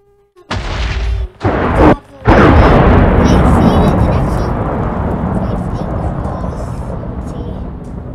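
Lightning strike and thunder in Minecraft: a sharp crack followed by a long, loud rolling rumble that slowly fades, close and dominant with no talking over it.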